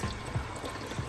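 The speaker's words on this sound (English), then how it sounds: "And here comes some oil." Oil mixed with antifreeze drains out of the oil pan of a Ford 3.5 L engine at 145K miles, a soft liquid pour with faint splattering, quiet and brief.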